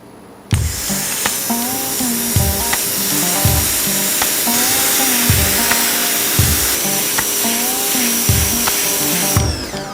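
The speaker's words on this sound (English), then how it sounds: "So pressure washer, believe it or not, works." A pressure washer blasts a gummed-up wide belt sander belt in a woodshop, a loud steady hiss running almost the whole time, with a regular pulsing rhythm as the belt turns and shifting tone as the spray moves.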